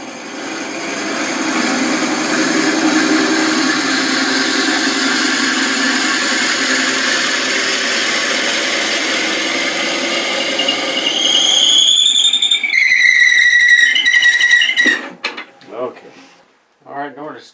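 Drilling wood on a lathe through the tailstock at around 500 to 600 rpm, a steady close whirring grind that turns into rising, wavering squeals before the spindle slows and stops.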